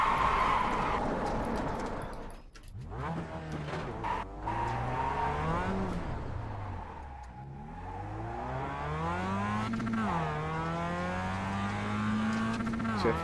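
A Mazda Miata races around Sonoma Raceway in iRacing, the engine revving up and down through gear shifts with sweeping pitch rises and drops, while tyres squeal through the corners.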